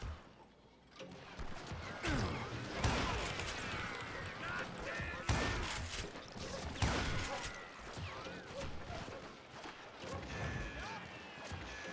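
Gunfire in the Western shooter Call of Juarez Gunslinger: several sharp, loud shots at irregular intervals, with bursts clustered around a few moments amid ongoing battle noise, while voices talk in between.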